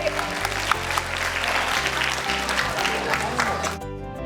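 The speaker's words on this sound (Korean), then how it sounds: "박수 한번 부탁드립니다." Steady applause from a chapel audience of young people fills the space alongside sustained musical tones, then cuts off sharply near the end.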